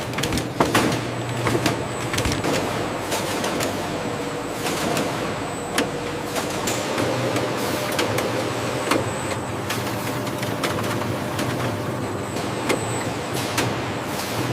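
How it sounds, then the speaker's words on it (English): A watermelon pulp dicing machine runs on a factory floor, making a dense, steady mechanical roar with scattered sharp clicks and clatters throughout. "Watermelon pulp enters the dicing machine, ready for precise transformation."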